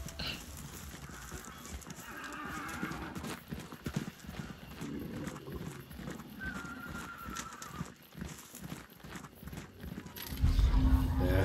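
A horse in the co-op game Hunt: Showdown clops its hooves and whinnies amid game ambience, the sounds fairly close, with a louder low rumble near the end.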